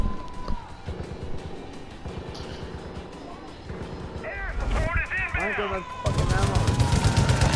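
Gunfire rattles through a firefight in Far Cry 5, set in Hope County, with rapid bursts and single shots under game noise and engine sounds, ending in a loud, dense stretch of shooting.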